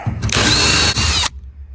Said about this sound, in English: I'm gonna take a wire wheel and a drill.